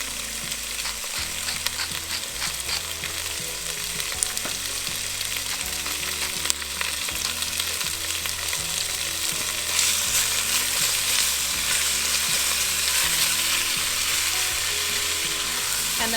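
Sausage meat browns in a pan with salt and pepper, a steady loud sizzle with a constant frying hiss and repeated scraping, clicking stirs throughout, no voices.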